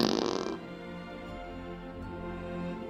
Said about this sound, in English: Hey, you want to hear a real live action fart instead of one of those fake cartoony ones?